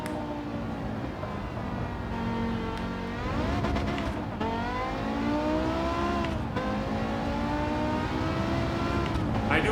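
A race car engine heard from the cockpit in Gran Turismo 7 drones steadily as it revs up and down through gear changes, rising and falling in pitch with a continuous road and tyre rumble beneath.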